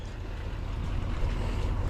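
Boat motoring across Wright Patman Lake, a steady broadband engine and water rush mixed with wind buffeting the microphone, continuous and fairly loud throughout.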